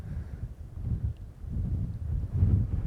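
Wind at the Upper Owens River buffets the microphone in low, gusty rumbles that swell and fade in waves, with no voices.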